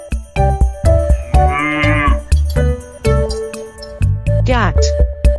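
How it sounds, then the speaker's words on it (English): A cow lets out a few drawn-out moos over light, bouncy music with tinkling chimes and steady percussive taps. "Cow."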